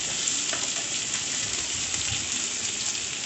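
Small onions, 25 to 30 of them, chopped and frying in hot oil with cumin, giving a steady, close, loud sizzle that crackles continuously without pause.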